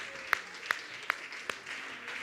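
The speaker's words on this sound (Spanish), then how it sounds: "den un fuerte aplauso al Señor" Congregation in a Spanish-language church service clapping, a steady wash of many hands at a moderate level, with four sharper, louder claps standing out at roughly even intervals.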